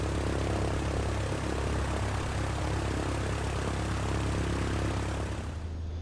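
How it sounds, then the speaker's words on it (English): Cessna light aircraft engine taxiing in Microsoft Flight Simulator, a steady propeller drone with a low rumble, loud and continuous before easing slightly at the end, with no voices. "we're going to go ahead and taxi and take off runway 26 this time"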